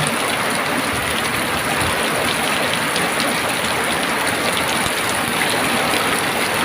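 Heavy rain pours down outdoors in a dense, constant roar of drops hitting surfaces, loud and close, with no break and no voices.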